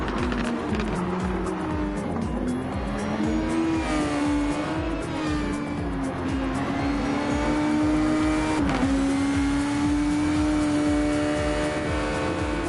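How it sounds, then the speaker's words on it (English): Honda-powered and Toyota racing cars in a video game roar around the Spa circuit, engines loud and continuous with rising and falling pitch as they shift and accelerate, a steady close mechanical howl throughout. "The two competing Japanese manufacturers just thundering through this track."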